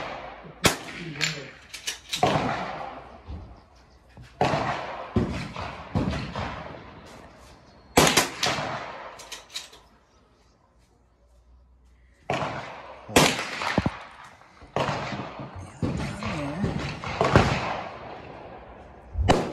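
Sharp gunshots from a Valmet .22 target rifle fired at a 5-inch metal target 100 yards away, sounding as a series of loud separate cracks with quieter gaps between them.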